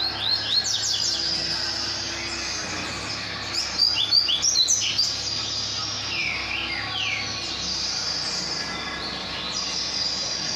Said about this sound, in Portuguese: Gostou do passarinho, Rogério?